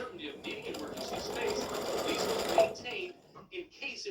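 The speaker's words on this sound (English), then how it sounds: "it stitches this in sections so that the black outline around the hat can come back in and stitch" A four-colour embroidery machine stitches out a St. Patrick's Day hat design, a steady mechanical whir that is clear and continuous for most of the clip, with a voice speaking over it before the sound drops away near the end.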